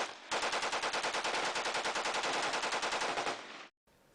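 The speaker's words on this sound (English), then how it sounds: "This is original sound of some kind of M16." A sustained burst of rapid automatic fire from an M16 rifle, loud and close, rattling continuously for over three seconds before cutting off abruptly.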